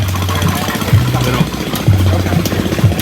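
A hit and miss engine from the early 1950s powers a combination mower and hedge trimmer, chugging loudly nearby with uneven firing pops and pauses over a low, rhythmic mechanical thump.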